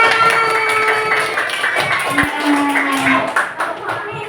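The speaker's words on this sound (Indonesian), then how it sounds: "Ayo kasih tepuk tangan buat Nayaka." Classroom clapping for a student during a fourth-grade science lesson, with scattered children's clapping mixed with chatter and a teacher's voice over a noisy room.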